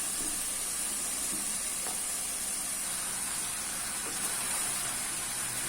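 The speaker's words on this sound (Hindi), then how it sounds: "मेरा ये जो मसाला है ये अच्छे तरीके से फ्राई हो गया है। अब मैं इसमें ऐड करूँगी बेल तोरी" Ridge gourd tossed into fried masala in a hot pan sets off a loud, steady, close sizzle that hisses on without pause, with faint stirring underneath and no talking.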